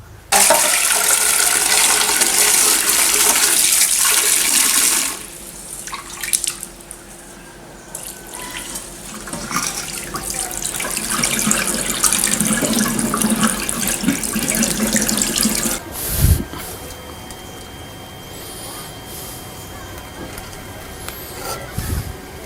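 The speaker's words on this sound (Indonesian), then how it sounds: "Saya cuci bersih dulu dengan air ya." Sambiloto herb leaves rinsed under a running tap, starting with a strong close gush of water that drops to quieter splashing and handling, followed by a brief louder surge near the end.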